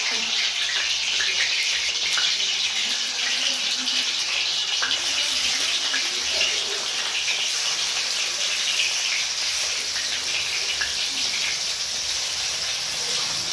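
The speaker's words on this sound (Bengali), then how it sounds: "তেল গরম হয়ে গেছে, এবার আমি মাখিয়ে রাখা মাছগুলো তেলের মধ্যে দিয়ে দিচ্ছি।" Pieces of rui fish, coated in spices, sizzle steadily in hot oil, giving a continuous close hiss and crackle with no talking.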